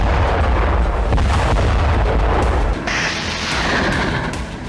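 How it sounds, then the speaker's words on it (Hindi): Russian MLRS rocket artillery strikes in Donetsk during the war in Ukraine, a dense, roaring barrage of booming launches and blasts that ends in a sustained rushing hiss. "डोनेस्क में रूसी सेना ने एमएलआरएस से इस तरह विध्वंसक प्रहार किया।"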